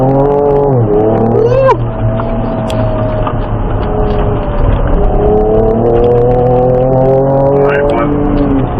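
A Ford Ranger Raptor engine revs hard on an off-road driving track, rising and falling through loud gear changes as the truck accelerates up close, with wind and road noise steady throughout and no talk.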